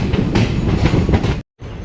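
A long-distance passenger express rolls along rails, its wheels giving a steady loud rumble with rhythmic clatter, then cutting out briefly before the rolling noise resumes.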